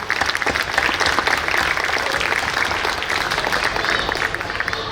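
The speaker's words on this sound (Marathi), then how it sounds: "जोरदार टाळ्या वाजू द्या" Audience applauding at a preschool annual gathering, steady dense clapping sustained throughout at fairly close range, with no voices standing out.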